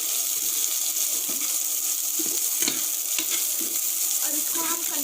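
Onion and chili flakes sizzle in a pan for onion kachori filling, while a spoon stirs through them with soft scraping strokes over a steady, close frying hiss. No one speaks.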